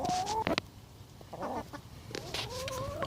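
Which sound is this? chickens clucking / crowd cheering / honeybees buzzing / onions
chickens clucking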